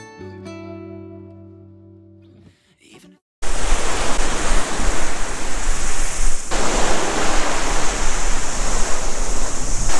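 Waves breaking on the shore at Fletcher Bay, Coromandel, New Zealand. A brief humming tone comes first, then loud, steady surf roars close by with heavy wind buffeting.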